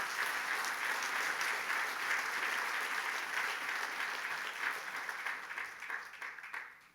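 A church congregation gives loud, dense applause for the Lord. It stays steady for about five seconds and then starts to fade.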